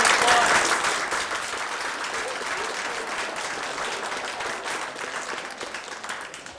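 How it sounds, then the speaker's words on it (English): After a monologue performance, an audience breaks into dense, sustained applause that is loud at first and then fades slowly. "Give her a big round of applause."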